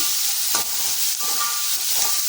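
Chopped onions sautéing in hot oil, a steady close sizzle with a few soft stirring scrapes, no talk.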